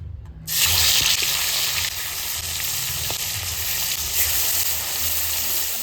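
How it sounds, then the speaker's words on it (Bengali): Rita fish sizzling loudly in hot oil in a pan, a steady dense frying hiss that starts abruptly as the fish goes in and continues close and unbroken, with no talk. "হালকা করে মাছগুলোকে ভেজে নেব"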